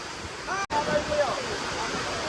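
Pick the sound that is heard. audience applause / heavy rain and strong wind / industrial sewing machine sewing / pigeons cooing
heavy rain and strong wind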